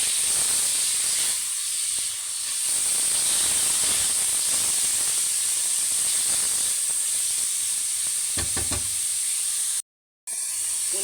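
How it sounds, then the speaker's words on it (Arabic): Chicken breasts fry with garlic cloves in a pan, giving a loud, steady steamy hiss and sizzle with a few soft knocks of stirring, then a brief cut to silence near the end. "ونقلب الفراخ لحد ما تبتدي تستوي شويه"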